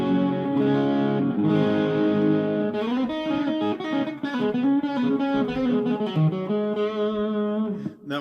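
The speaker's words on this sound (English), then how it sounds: "So let's go on to the crunch tones." A crunchy, mildly distorted Kramer Focus VT 211S electric guitar plays sustained chords and melodic lines, loud and continuous with no voices.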